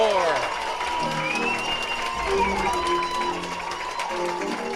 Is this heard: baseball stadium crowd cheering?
yes